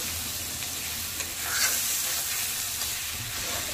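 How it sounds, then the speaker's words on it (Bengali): Fried lentils are stir-fried with spices in oil for khichuri, giving a close, steady sizzle with soft scraping stirs throughout. "এবার আমি ভেজে রাখা ডালটা দিয়ে দিলাম। ডালটা দিয়ে আরও কিছুক্ষণ কষতে থাকবো।"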